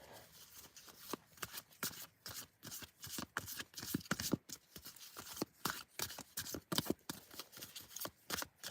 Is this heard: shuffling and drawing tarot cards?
yes